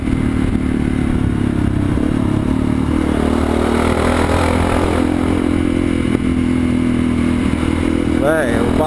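Honda NX4 Falcon motorcycle accelerating in city traffic, a loud steady engine drone with rattling and clatter, heard close up throughout, ending with a short rising whine.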